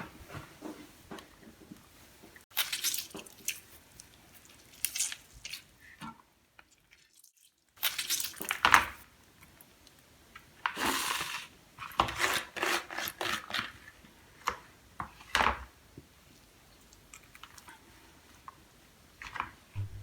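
Salted bitter gourds (karela) are squeezed one by one by hand over a bowl, giving faint, intermittent squelches and drips of salty water with quiet gaps between them.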